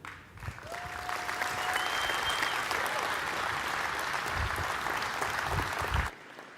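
A large crowd at the evening Nikola One hydrogen-hybrid truck presentation applauds, loud and continuous clapping for about six seconds before it cuts off abruptly.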